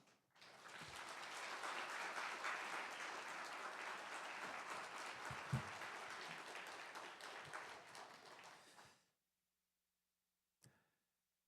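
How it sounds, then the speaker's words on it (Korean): Applause from a church congregation at a New Year revival service welcomes the pastor to the pulpit: dense, steady clapping from a large crowd filling about nine seconds, then cutting off into silence. "나오실 때 우리 크게 박수로 맞이하겠습니다"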